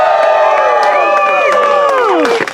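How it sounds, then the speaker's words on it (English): A theatre audience at an outdoor Shakespeare performance of The Tempest cheers loudly and steadily for a couple of seconds, with whoops and raised voices in a dense crowd, fading slightly at the end. "And you cheer for him."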